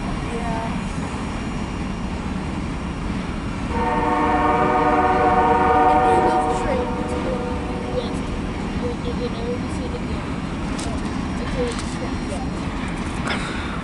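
A CSX freight hauling grain cars rolls past at close range, its horn sounding a steady multi-tone blast for a few seconds over continuous wheel and rail rumble; voices talk briefly nearby.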